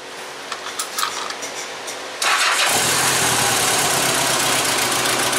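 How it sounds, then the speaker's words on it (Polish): A Honda GL1200 Goldwing motorcycle with a history of tapping valves is started close by: a brief cranking whir, then the engine catches and settles into a loud, steady idle. "Odpalimy teraz silnik, posłuchamy tego,"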